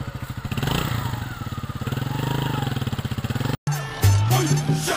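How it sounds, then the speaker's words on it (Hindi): A motorcycle rides along with a steady, throbbing engine pulse and clattering mechanical rattle, loud and close; after a brief cut the engine note shifts and rises as it revs. "गाड़ी तो बहुत चलाई, अभी थोड़ा मोटरसाइकिल चलाते हैं।"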